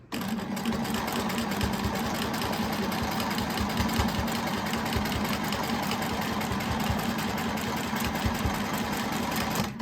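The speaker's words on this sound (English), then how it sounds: "Put my hand in place and stitch." Sewing machine stitching quilt fabric along a quarter-inch seam, a continuous rapid mechanical whirr and needle clatter running steadily and close by, with no talking.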